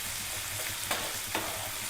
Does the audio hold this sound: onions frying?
yes